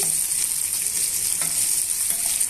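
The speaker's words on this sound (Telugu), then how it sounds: "ఉల్లిపాయ ముక్కలు పచ్చిమిరపకాయ ముక్కల్ని యాడ్ చేశానండి ఇప్పుడు మనం వీటిని బాగా వేయించేసుకోవాలి" Chopped onion and green chilli pieces sizzle steadily in a hot pan for a curry, a continuous bright frying hiss with faint scraping touches and no talk.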